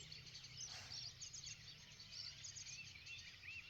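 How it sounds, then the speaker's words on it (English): Faint chirps and twittering song from birds drift across a farm on a quiet evening, thin and distant over a low background murmur. "if you stop and listen, you just hear it. The birds"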